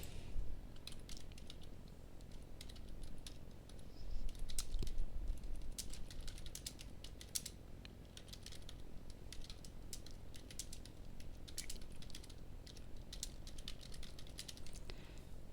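Typing on a computer keyboard: a steady run of quick, soft key clicks in irregular bursts, close but quiet over low room noise, with no speech.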